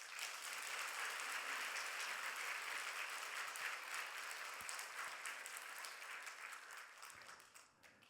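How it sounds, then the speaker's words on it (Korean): A church congregation at a Sunday worship service applauds steadily for about eight seconds, a dense wash of clapping that stays even before thinning slightly toward the end. "우리 박수 한번 쳐주십시오"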